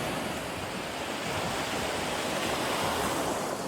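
Ocean waves crashing on a seashore at Corito Bay beach under a brisk wind, a continuous loud roar of surf and gusting air with no pauses and no voices.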